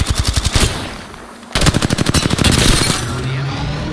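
Rapid automatic gunfire from the video game Apex Legends, two loud bursts of close shots separated by a short pause, with a faint game voice in the background.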